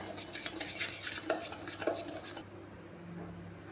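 Sugar and oil are mixed in a bowl for mango cake batter, with close, brisk, rhythmic scraping for about two and a half seconds before it falls quiet, and no talking.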